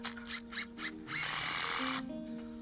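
Power drill driving screws into timber decking posts set in hard, stony ground, giving one sustained whirring burst of about a second after some short knocks, fairly close and moderately loud.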